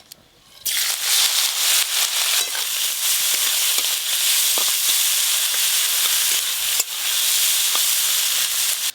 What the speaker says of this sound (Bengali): ওই একই তেলে চিংড়ি মাছগুলোও ভেজে নেব।